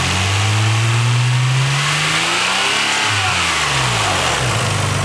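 A 1997 Nissan Skyline R33 GT-R V-spec engine revs up, drops and rises again, loud and close, in a continuous throaty run with no talk.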